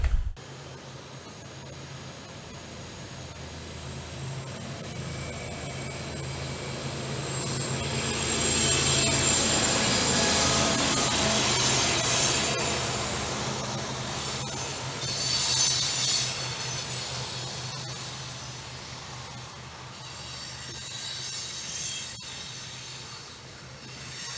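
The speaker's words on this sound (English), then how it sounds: "I miraculously got a shot of that 2 or 3 years ago when the train came through" A train rolls through Kimball, West Virginia, a coal town, with a long rumbling pass that swells to a loud middle, carrying metallic wheel squeal and hissing rail noise before easing off, no voices over it.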